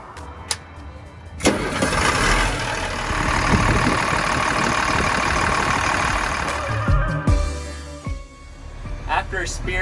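An LMTV M1078 military truck engine runs steadily and loud for most of the span, with a sharp transient near the start and a voice talking over it, then the rumble drops away near the end.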